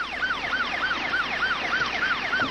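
An ambulance siren blares on an emergency run, a loud, close wail sweeping up and down in a rapid, regular yelp, repeating about every third of a second with no voices.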